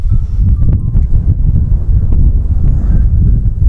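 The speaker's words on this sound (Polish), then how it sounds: "Straszny wiatr, nie wiem jak będziemy się dzisiaj słyszeć" Strong gale buffeting the microphone outdoors during feeder fishing, a loud, steady low rumble of wind noise throughout with no talk.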